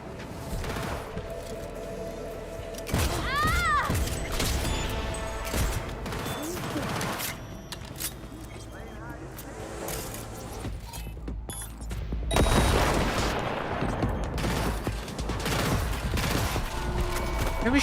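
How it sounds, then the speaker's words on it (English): Gunfire in the video game Cyberpunk 2077 Phantom Liberty, with bursts of shots and crashing impacts over a steady bed of game ambience and music, louder in the final seconds. "Who was shooting at me?"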